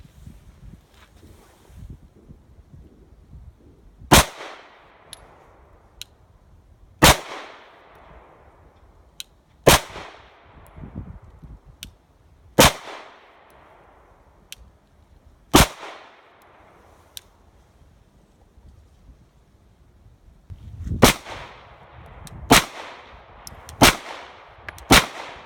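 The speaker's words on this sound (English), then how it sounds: "Now it's time to take a few shots with the Springfield XD Tactical." Shots from a Springfield XD Tactical 9mm pistol ring out one at a time, loud and near on an outdoor range, about eight sharp cracks spaced a few seconds apart with light wind noise between them.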